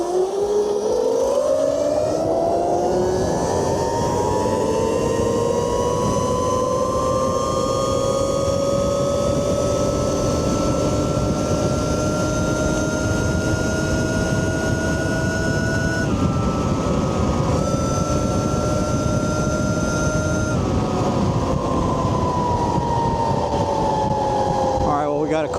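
A 72V E&C ETM RTR electric pit bike in sport mode on a top speed run, its motor whine rising in pitch and holding a steady high drone over loud wind rush, with a voice speaking at times.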